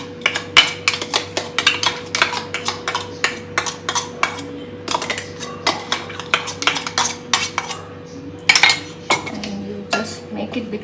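A spoon clinks and scrapes against a bowl while stirring slightly hot red pumpkin puree with salt, giving a steady run of quick, close metallic taps.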